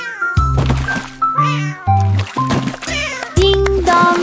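A cat meows repeatedly up close, several loud drawn-out cries in quick succession with short pauses between them.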